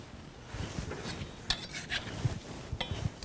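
Chopped tomato is tipped into a bowl while raita is being made, giving a few soft, close wet clatters and light clinks of utensil against dish over about three seconds, with no talk.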